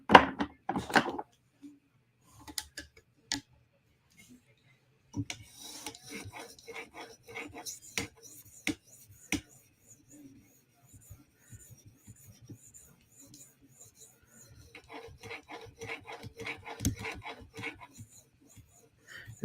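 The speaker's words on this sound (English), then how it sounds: "Here we go back to our 2000 grit stone." A PM2 tanto knife blade is sharpened on a 2000 grit stone with soft, rhythmic rasping strokes, quiet and close, in steady runs separated by brief pauses.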